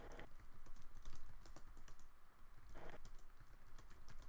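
Fast typing on a computer keyboard: a steady stream of quiet, close key clicks with a few denser bursts, no talking.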